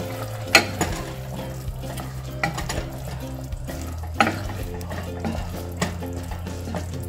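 Chicken curry being stirred in a pan, frying sizzle under repeated scrapes and clanks of a spoon against the pot, close and steady with no talk.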